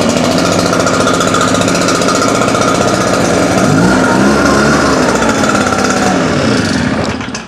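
A small-engine grass trimmer runs close and loud with a rapid buzzing, knocking idle that holds steady for several seconds before dying down at the end.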